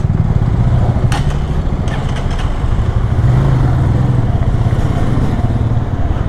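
A Hartford Leopard 223 cruiser motorcycle with a VR 220 engine on a test ride gives a steady, loud engine drone with rushing wind, heard close and continuously without speech.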